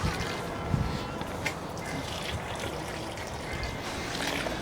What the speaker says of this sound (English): Then he's filling them with water.